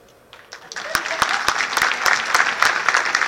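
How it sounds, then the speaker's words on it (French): Applause from a French-speaking audience at a talk starts softly, then swells into brisk, dense clapping, with a few loud individual claps cutting through the crowd. "Par applaudissement, qui me connaît?"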